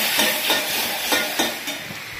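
Chilli, turmeric and tomato frying in hot oil, giving a steady close hiss and sizzle with a few soft stirring pulses and no talk.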